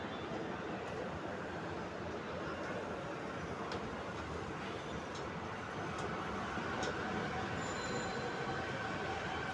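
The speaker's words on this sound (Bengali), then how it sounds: "স্বপ্নের মেট্রো ট্রেন চলা শেষ হয়ে গেল" A metro train runs along its line, a steady low rumble and rolling wheel noise with faint high squeals and ticks, heard from on board at moderate level without clear talk.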